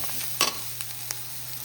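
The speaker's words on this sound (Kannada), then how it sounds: "ತೆಂಗಿನಕಾಯಿ ಅರ್ಧ ಗಡಿಯಷ್ಟು ತೆಂಗಿನಕಾಯಿ ಹಾಕಿ ಚೆಂದ ಫ್ರೈ ಮಾಡಿ." Grated coconut frying in a hot pan, a soft steady sizzle broken by a couple of quick spatula scrapes as it is stirred, close and without speech.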